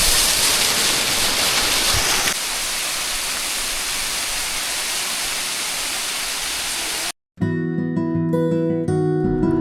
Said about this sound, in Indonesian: Ini nama air terjunnya Lungtung Waterfall.